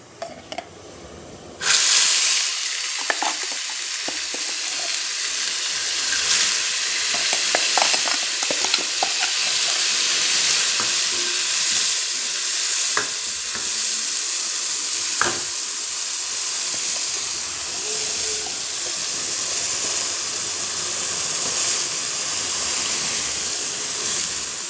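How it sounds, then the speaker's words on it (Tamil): Hot oil hisses and crackles continuously after a quiet start, with scattered sharp pops as mustard seeds sizzle close by while tempering for chutney, occasional stirring clatter. "எண்ணெய் நல்லா காஞ்சிருச்சு. இப்போ நம்ம கடுகு போடலாம்."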